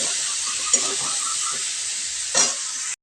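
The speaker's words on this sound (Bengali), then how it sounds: "এবার এটা লবণ দিয়ে নাড়াচাড়া করে ঢেকে দেবো।" Vegetables with salt sizzle loudly in a hot pan as they are stirred, a constant bright hiss broken by a couple of scraping strokes near the start and end, with no voices.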